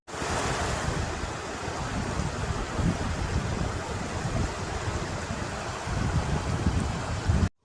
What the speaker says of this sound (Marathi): काय तो पाण्याचा आवाज